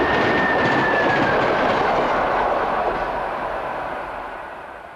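A high-speed class 232 diesel locomotive hauling a single van roars past close by with a loud, continuous rumble, wheel noise and a thin squeal, fading as it draws away.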